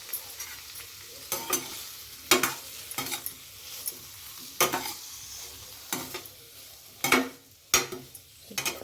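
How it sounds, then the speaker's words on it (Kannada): Paneer roasting lightly in a pan for green paneer masala, with steady sizzling and frying hiss broken by repeated sharp scrapes and clacks of a spatula stirring against the pan, close and clear with no talk. "ಈಗ ಇದನ್ನ ಲೈಟಾಗಿ ಪನ್ನೀರನ್ನ ರೋಸ್ಟ್ ಮಾಡ್ಕೊಳ್ಳೋಣ"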